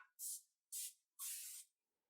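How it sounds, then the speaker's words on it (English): Cooking spray hisses onto a 9x13 baking pan in three short, close bursts, the last one longer, with silence between them. "I'm going to hit the pan with a little bit of cooking spray as extra insurance against sticking"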